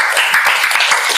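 Students in a classroom applaud a student group, making a short burst of dense, close clapping from many hands with no pause or talk.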